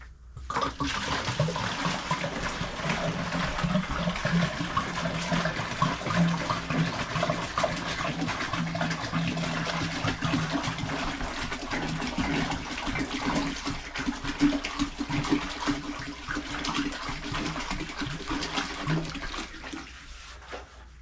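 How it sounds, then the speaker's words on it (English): Water pours steadily into a bucket, a continuous splashing rush that stays loud and close throughout, with no talking. "While that's heating up, I'm gonna put some water in the bucket."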